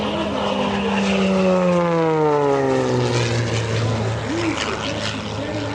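An aerobatic propeller airplane flies past at a county airshow, its engine drone sweeping downward in pitch with a clear Doppler shift as it passes close and loud, while an announcer talks over it.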